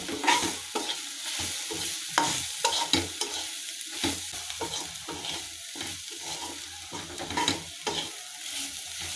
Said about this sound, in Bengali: এখন এগুলোকে ভালো করে কষিয়ে নেব।